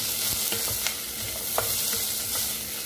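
Onion and garlic fry in hot cooking oil with a loud, steady sizzle, and a utensil stirs the pan now and then. The cooking is close and there is no talk.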